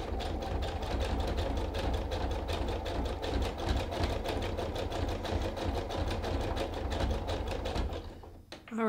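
Sewing machine zigzag stitching layers of rope into a round coil basket, a steady fast mechanical chatter running close and unbroken for several seconds before slowing and stopping.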